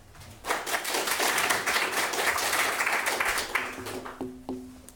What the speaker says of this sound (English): Can we hold the applause after the comments?